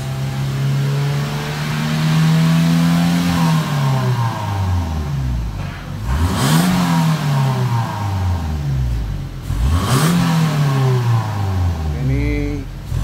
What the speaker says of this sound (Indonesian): Tapi setelah bisa los di atas 3000 lah kita gas.